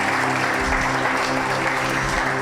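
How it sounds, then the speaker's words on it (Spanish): Steady applause from a church congregation, a continuous wash of clapping with a low hum underneath, sustained throughout without pauses. "Y si estás expectante el día de hoy, le puedes dar un aplauso a Jesús."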